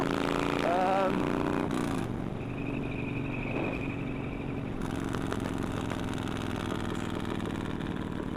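Motorcycle engine running with carburettors needing cleaning and a modified timing advance unit, a steady mid-pitched drone with a brief rev near the start, with speech over it.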